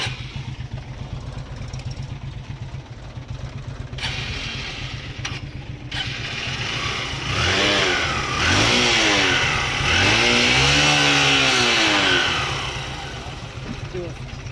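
A motorbike engine running on water-fuel technology, just started, idles with a steady low thrum, then revs up in rising and falling swells before settling back, close and loud, with people talking over it.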